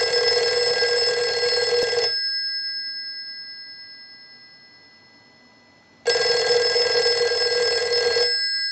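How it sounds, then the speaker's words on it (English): A Western Electric 302 rotary desk telephone bell rings loudly in two long bursts, each about two seconds, separated by a silent pause, with a steady metallic jangle, driven by a test ring cycle. "use the analyzer and send a ring cycle like you were getting a call"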